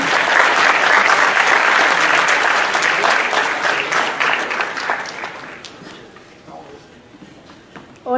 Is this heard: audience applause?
yes